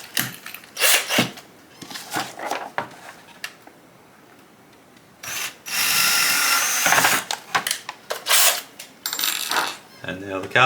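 Step drill bores 2mm and 4mm holes into high impact polystyrene (HIPS) plastic sheet, in bursts of whirring, grinding drilling separated by quieter pauses and handling clicks, with one longer, louder sustained bore in the middle.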